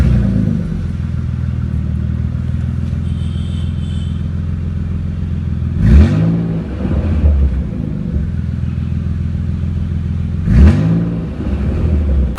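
A Nissan 300ZX with an aftermarket exhaust idles with a deep rumble, then revs sharply twice, each burst rising and falling back through a raspy, loud exhaust note.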